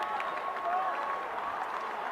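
Crowd noise from spectators at an Otago schools rugby championship final, a steady distant wash of voices with faint clapping drifting in and out.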